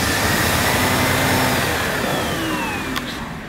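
A Sebo K1 Komfort cylinder vacuum cleaner runs on plush carpet, giving a steady close motor drone and airflow hum that tapers slightly as the nozzle is pushed along, with no voices.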